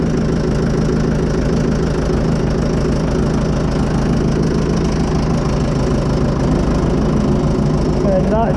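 A Fordson Major diesel tractor engine runs steadily and loud, a close, continuous knocking diesel chug with no change in pace.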